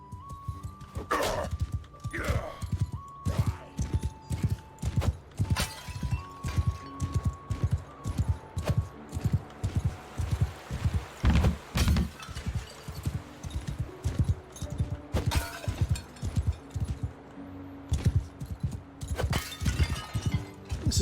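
Rhythmic clip-clop of horse hooves from a mounted rider in the Mount and Blade 2: Bannerlord video game, steady repeated beats through the whole stretch with an occasional whinny and game music underneath, no talking.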